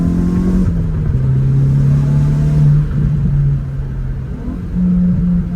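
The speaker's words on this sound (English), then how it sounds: "The exhaust sounds cool. It sounds great for a stock exhaust." A 2024 Hyundai i20 N's engine and stock exhaust drone loudly up close as it accelerates, its pitch climbing, dipping briefly at gear changes, then rising again.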